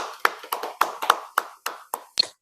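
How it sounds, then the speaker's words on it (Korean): Welcoming applause from a room of teachers at a school teaching-sharing session, heard as about nine distinct, fairly loud claps or taps spaced through the moment, each a separate sharp hit rather than a dense ovation. "환영의 또 박수로 조수연 선생님 한번 모셔보도록 하겠습니다."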